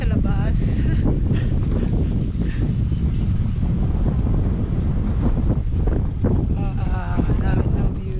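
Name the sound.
wind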